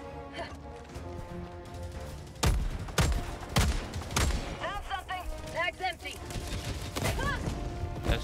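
Gunfire in the video game Helldivers 2, with several heavy, booming shots spaced about half a second apart amid ongoing battle noise, while a person talks over it.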